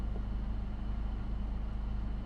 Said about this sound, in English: There's cars passing.